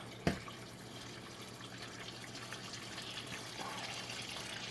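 Engine oil draining from a Subaru during an oil change: a faint, steady trickle of liquid pouring into a pan, with a single sharp knock near the start.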